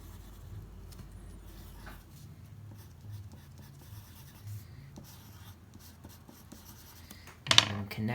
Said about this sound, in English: I'm going to draw the pumpkins growing right here.